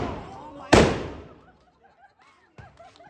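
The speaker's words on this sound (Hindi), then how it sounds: "भाई बहुत तेज पटाखे" Loud firecrackers go off outdoors: one sharp, powerful blast with a long fading tail, then a second, smaller crack a couple of seconds later, with faint scattered voices and noise in between.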